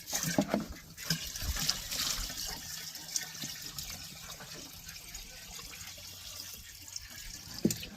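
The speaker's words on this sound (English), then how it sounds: "We'll dump the rest of the water out of the bucket in there, hopefully not spill a bunch of it." Water from a bucket dumped into a farm water tank, a splashing, trickling pour that runs through most of the stretch at moderate level, with a few sharper knocks near the start and end.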